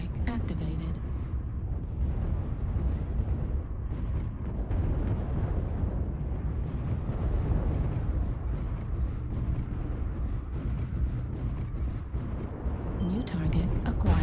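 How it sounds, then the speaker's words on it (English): Artillery strike explosions in MechWarrior Online, heard as a continuous deep rumbling barrage of overlapping booms that runs throughout, with game voice callouts over it. "Artillery strike activated."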